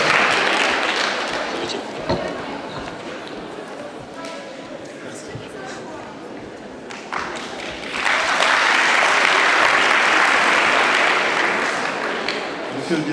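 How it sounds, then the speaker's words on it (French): Sustained crowd applause at a student talent show, many hands clapping together, swelling louder in the second half, with a voice speaking in French over the start. "vos applaudissements, mesdames et messieurs"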